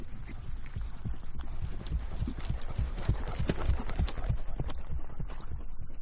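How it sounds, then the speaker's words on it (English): A horse trots at a sharp, unhurried pace, its steady clip-clop hoofbeats close and continuous throughout with a low rumble beneath. "He sees the figure of Cadogan riding at a sharp, unhurried trot"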